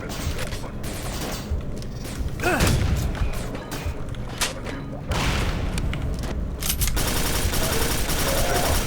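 Gunfire and explosions in the video game Quake 4, a busy run of rapid shots, booms and mechanical clanks with loud bursts scattered throughout and a denser volley toward the end.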